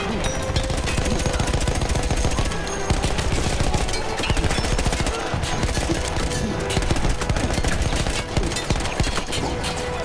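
Dense, nonstop gunfire from a World War I battle in Battlefield 1, with rapid machine-gun bursts and overlapping rifle shots forming a loud, continuous barrage.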